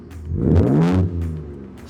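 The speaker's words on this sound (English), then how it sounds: "Let's start it up and hear the cold start." A Ford Raptor's 3-litre twin-turbo V6 on standard exhaust cold-starts, a brief crank followed by a deep rising rev that settles back to a lower idle rumble, close and moderately loud.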